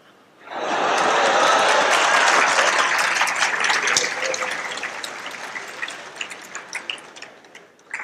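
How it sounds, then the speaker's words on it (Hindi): Audience applause at a student education talk rises quickly to a dense, loud burst of clapping, then slowly thins and fades over several seconds, with no voices over it. "ताली उम्र के लिए बजा रहे हो कि मौज मस्ती के लिए बजा रहे हो?"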